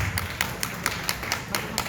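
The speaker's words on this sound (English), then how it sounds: "Let us all welcome them with a big round of applause" Slow, steady clapping with about nine evenly spaced claps at a welcome for service-club groups, sounding thin and somewhat close, as if from only one or a few people.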